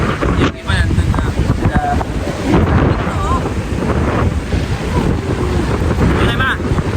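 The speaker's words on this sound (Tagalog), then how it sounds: "Lakas kasi ng hangin." Strong wind buffets the microphone on a Boracay beach during a super typhoon, a constant rough roar with surf underneath, and voices briefly audible through it.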